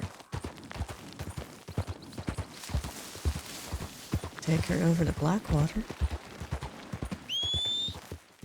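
In Red Dead Redemption 2, a horse whinnies loudly in the middle and hooves clop softly throughout. Someone talks over it and a bright synthetic tone rises near the end.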